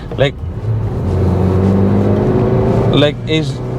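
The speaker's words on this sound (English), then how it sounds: "The power from the engine is really punchy. Since it's a naturally aspirated engine, it just kicks off instantly." A Maruti Suzuki Baleno's naturally aspirated engine pulls steadily under acceleration from inside the cabin, a sustained low drone climbing in pitch, with someone talking over it at the start and end.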